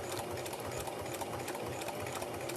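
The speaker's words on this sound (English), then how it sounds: "So I'm just sewing down my line that I drew." Sewing machine stitching along a drawn line on a quilted soup bowl hot pad, giving a fast, steady, close mechanical whir and rapid needle chatter, running alone without any talk.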